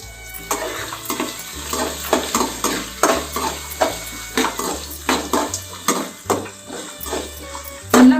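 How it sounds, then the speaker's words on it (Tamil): Sliced onion being sautéed in a pan for a curry and coriander gravy, loud sizzling with repeated rhythmic scrapes and clinks of a spoon against the pan throughout. "இப்போ நம்ம இதை நல்லா வதக்கிக்கலாமோ"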